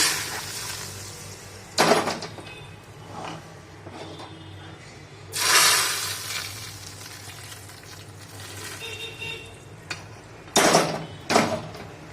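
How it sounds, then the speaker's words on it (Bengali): Tempering spices for sambar dal pour into the pot with loud hissing sizzles in several bursts, a strong surge near the start, another mid-way and two more at the end, separated by quieter bubbling and pan clatter. "তো এই ফোড়নটা আমি দিয়ে দিচ্ছি।"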